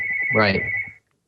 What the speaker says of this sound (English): Sorry about the phone. Isn't that a lovely sound?